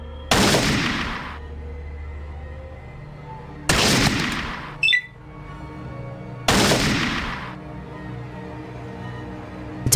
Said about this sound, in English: Okay, let's just shoot him.